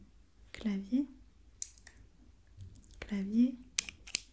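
Keys on a computer keyboard tapped in an ASMR roleplay, a few soft clicks scattered among whispered, gently spoken words that lie over them.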